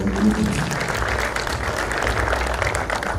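An audience at a business summit in Eldoret gives a short burst of applause, a dense, even patter of many hands that stays steady throughout the few seconds.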